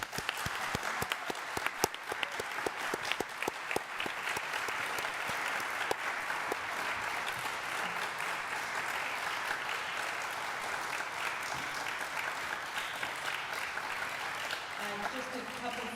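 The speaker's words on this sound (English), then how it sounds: "First, a round of applause." Applause for the candidates at a League of Women Voters candidates forum: a crowd claps steadily for a long stretch, with some sharp individual claps early on, evenly sustained, before fading slightly at the end.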